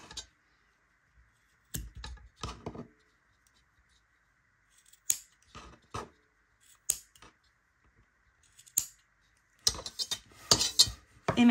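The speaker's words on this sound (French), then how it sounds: "Moi, je vais couper à 10 cm tous mes fils." Scissors cutting macramé cords for a bookmark, a series of sharp, close snips in irregular bursts separated by quiet pauses, with a quicker cluster of cuts near the end.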